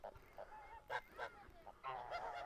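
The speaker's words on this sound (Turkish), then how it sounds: "Burada kaz yavruları var. Burada da kazlar var." Geese honk repeatedly in short, nasal calls, several birds overlapping at moderate distance on a farm with goslings, with quiet background between calls.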